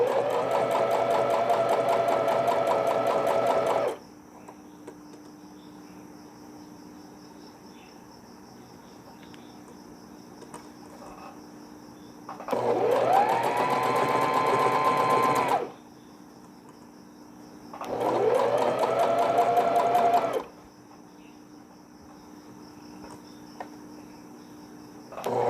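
A sewing machine stitches a folded one-inch elastic casing on baby underwear, its loud steady whirring running in three separate bursts of several seconds each, with quiet gaps between and no talking.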